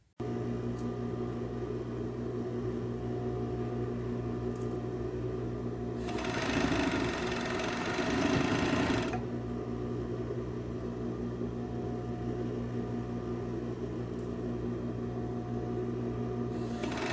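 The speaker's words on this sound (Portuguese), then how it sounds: "Essa costura vai ser na máquina overlock." An overlock sewing machine runs steadily as it sews a garment seam, a loud continuous mechanical whir with a brief louder surge of stitching partway through, no talk.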